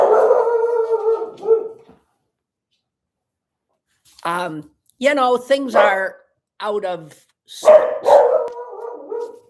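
A dog lets out a long, loud howl with a bark at its end, followed by silence and then a person talking in short bursts.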